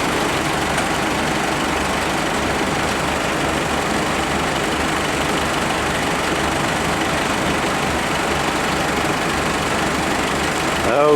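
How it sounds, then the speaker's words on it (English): A Ford 7000 tractor idles while driving a PTO slurry pump that pulls slurry out of a pit, giving a steady, loud engine drone with dense mechanical rumble that runs unbroken throughout. "Basically have the Ford 7000 running at idle. Hooked to a PTO pump."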